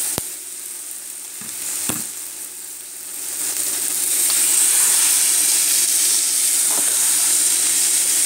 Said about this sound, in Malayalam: ഇനി നന്നായിട്ടൊന്ന് മിക്സ് ചെയ്ത് കൊടുക്കണം.